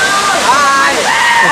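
Gandhari Medaram waterfall roars as a steady, loud wash of rushing water, with a voice talking over it throughout.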